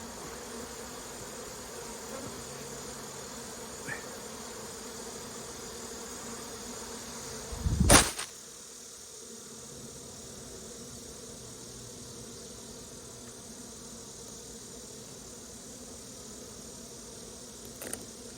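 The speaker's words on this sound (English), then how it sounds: "The bees had run me off all the way up the hill there" A steady swarm-like drone of honey bees fills the air around an open hive during colony equalization work, briefly cut by a sharp loud burst midway before the even buzzing resumes alone.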